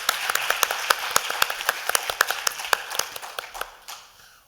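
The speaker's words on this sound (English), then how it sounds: "If we can just give them another big round of applause for coming up here." An audience gives a round of applause to panel members after a discussion session: a steady patter of individual claps, fairly close and clear, gradually thinning and fading toward the end.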